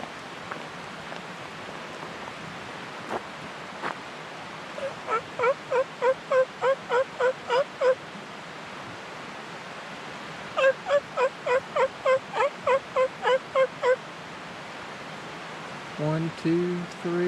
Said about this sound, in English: Some turkeys out in front of me.